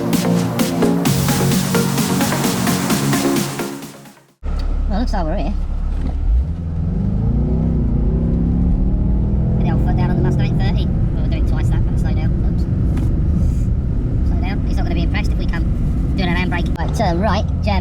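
Rental convertible car engine while driving, a steady low rumble of road and motor lasting the whole stretch after a short burst of music, with a person talking over it.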